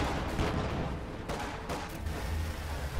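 Gunfire from a Puma armored car in a World War II strategy game, a few sharp shots over a steady battle rumble, with no voices.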